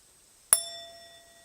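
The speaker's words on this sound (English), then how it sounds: "if you were a singing bowl, it would sound like this." A singing bowl is struck once, giving a bright metallic strike followed by a clear, sustained ringing tone that slowly fades, heard alone and close.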